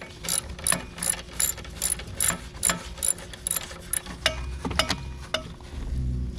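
Socket wrench with a 13mm socket ratcheting to unscrew a nut during a belt change on a Turfco machine, giving close, rhythmic clicking strokes that repeat steadily.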